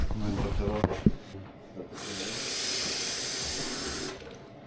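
Water from a tap rushes steadily into a kettle at a tiny sink, a bright close hiss lasting about two seconds, preceded by brief clattering and rubbing as the kettle is handled.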